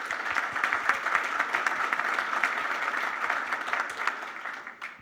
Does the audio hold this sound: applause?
yes